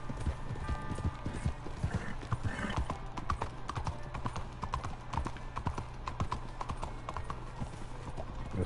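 Horse hooves clip-clop in a steady, rhythmic trot through the streets of Blackwater in the video game Red Dead Redemption 2, fairly quiet, over a low background murmur of town ambience.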